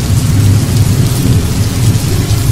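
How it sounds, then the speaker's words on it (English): Heavy rain pours in a loud, steady wash with deep rolling thunder rumbling underneath throughout a severe thunderstorm, no voices. "It's raining so hard that there's probably a flood."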